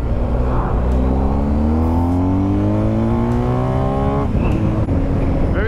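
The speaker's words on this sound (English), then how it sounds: "Very nice exhaust on the back as well, you really hear it." A BMW R1250GSA motorcycle engine revs hard through rising gears, its exhaust roaring steadily up in pitch, close and continuous, with a brief shift before climbing again.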